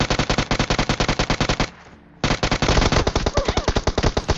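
Automatic gunfire in the mobile battle royale game PUBG Mobile, loud rapid bursts of shots with a brief pause midway before firing resumes, no talking.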